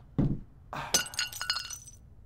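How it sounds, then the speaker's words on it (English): A mug smashing in the video game Garry's Mod, a sharp impact followed by a bright burst of shattering glassy ceramic and scattered tinkling fragments, brief and close. "you can't just go around smashing mugs"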